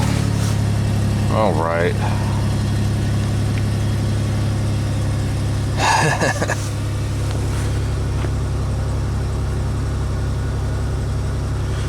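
A car engine is cranked at -10°F, a loud low idle droning steadily near the microphone with brief rough bursts, while someone speaks briefly over it.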